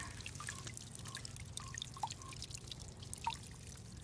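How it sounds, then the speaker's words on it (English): Water trickles and drips steadily into a rain barrel collection system on a steep hillside property, a soft, continuous pouring sound with a few brighter drips over low background rumble. "I have some water coming in."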